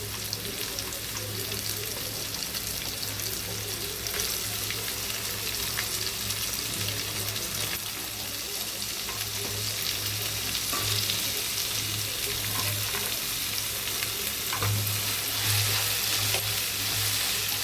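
Carrots, beans, green peas and potatoes sauté with tomatoes in a pan, giving a continuous, loud sizzle that never lets up, with faint stirring movements underneath and no talk.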